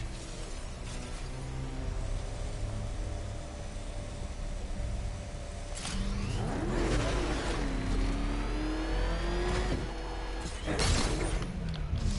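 Batmobile engine in the Batman Arkham Knight video game, a loud steady drone that revs up with rising, sweeping pitch midway and surges again near the end, with no talking.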